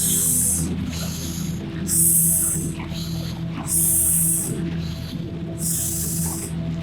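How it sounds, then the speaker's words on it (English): Several long breathy hisses in a steady repeating rhythm, like air pushed out through the teeth on an S, with a low hum underneath. "you exhale with certain resistance and with sound S"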